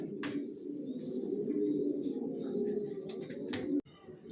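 A pair of young adult racer pigeons coo in low, soft, rolling phrases nearby, with a few brief chirps and small knocks over a quiet background.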